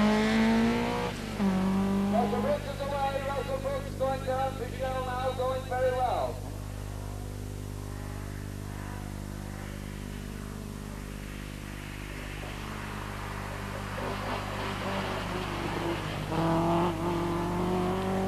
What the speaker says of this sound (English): braking, and then accelerating down the hill to complete one of the two laps on this special stage